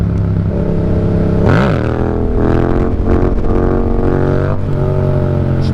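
A motorcycle with a full exhaust and big upgrades, still in need of a tune, roars loud and close on a city street, its engine note climbing and dropping through several revs in a steady drone.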